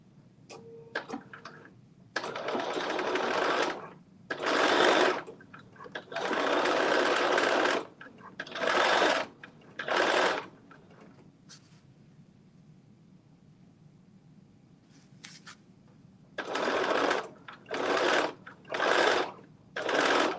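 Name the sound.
sewing machine stitching around pockets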